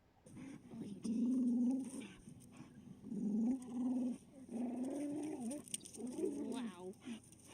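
A dog named Chance makes throaty gurgling growls in repeated bursts while playing, loud and close, with brief human speech mixed in.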